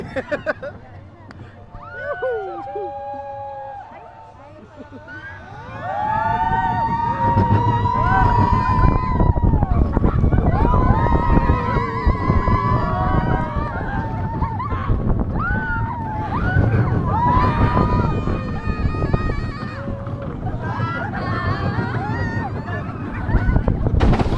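Kids' roller coaster Roller Skater at Enchanted Kingdom in the Philippines, with a steady rumble and wind noise throughout, rising louder after a few seconds, while riders' voices and babble chatter over it.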